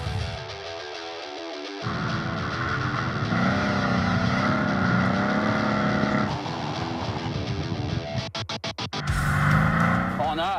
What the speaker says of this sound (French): La voiture que je conduis actuellement, c'est une CLA 45 AMG, 4 roues motrices avec le système 4MATIC